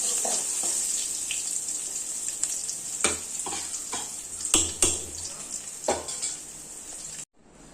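Cooked dal is poured into a pan of frying onions, bringing a bright sizzle with wet splashing, a few sharp metallic knocks of a utensil on the pan, and a sudden cut to near silence at the end.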